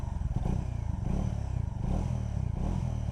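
Bajaj Dominar motorcycle engine running close by with a steady, throbbing exhaust note and rhythmic rises in revs, loud and continuous with no speech.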